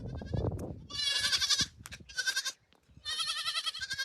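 A goat bleats loudly and close in three long, wavering cries separated by short pauses, with some low rustling and faint background noise at the start.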